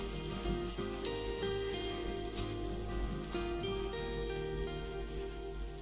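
Beef sizzling in a pan with mixed spices for a Bangladeshi beef bhuna, a steady, moderately quiet crackle and hiss with faint scraping from stirring, no talking.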